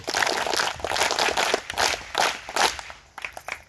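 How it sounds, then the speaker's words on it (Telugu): A group of school students at morning prayer claps together in rhythmic bursts, several loud crisp volleys of hand claps spaced across a few seconds, with no talking. "సో 8th క్లాస్ వాళ్ళందరికీ 3 చైర్ క్లాప్స్."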